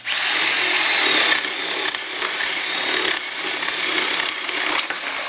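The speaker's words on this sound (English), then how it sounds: "I'm gonna let Dan go into the hammer drill" A RIDGID R9651 18V hammer drill bores through wood, giving a loud, continuous, grinding whine that holds steady for about five seconds, with brief dips as pressure shifts and no talking over it.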